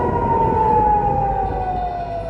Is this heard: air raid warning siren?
yes